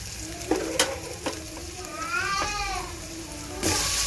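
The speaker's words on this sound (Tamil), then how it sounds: "இஞ்சி பூண்டு சேர்த்து நல்லா பச்சை வாசனை போகிற அளவுக்கு வதக்கி விட்டுக்கலாம்" Ginger and garlic sauté in a pan for a home-style egg curry: a low, steady sizzle with a few sharp stirring clicks, and a meow-like cry rising briefly midway.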